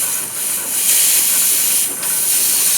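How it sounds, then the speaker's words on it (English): Air escapes from a tire's valve stem as a steady, sharp, close hiss, with the pressure swelling and easing slightly as it continues alone. "Pull that, you see the air start escaping, or you hear it."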